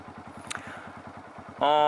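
A motorcycle engine idles in neutral with a rapid, even chugging pulse, close and steady, before a loud tonal buzz cuts in at the end.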